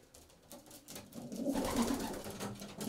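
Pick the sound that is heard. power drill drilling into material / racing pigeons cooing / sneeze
racing pigeons cooing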